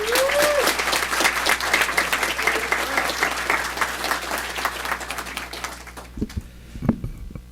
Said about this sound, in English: Let's applaud her achievements.